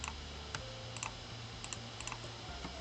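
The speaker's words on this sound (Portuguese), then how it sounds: "Vocês podem selecionar e clicar em Delete." Computer keyboard keys and mouse buttons clicking while deleting map layers in ArcGIS Pro, a few sparse, crisp clicks close by over a steady low hum.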